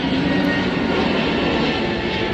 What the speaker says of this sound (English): wait for this plane to go through here again